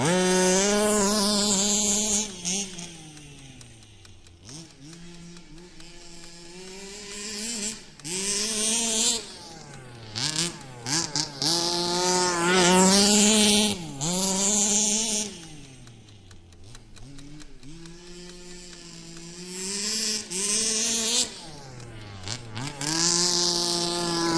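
Gas-powered Baja 5B RC car driving and revving, its small two-stroke engine buzzing up and down in repeated rising and falling surges, close and loud, with no talking over it.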